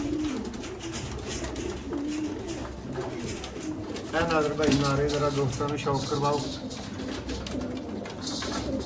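Sialkoti pigeons with purple feet coo in soft rolling bursts under steady male conversation, the cooing rising clearer for a couple of seconds midway through.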